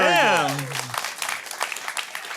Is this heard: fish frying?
no